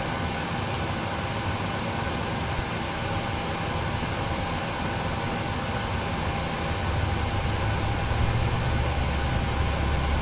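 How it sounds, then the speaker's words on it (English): Aircraft engine 2 spooling up and idling in the Prepar3D v3 flight simulator, a steady broadband whine and hum that thickens slightly with a low rumble toward the end, alone without voices. "Start engine 2. Starting 2."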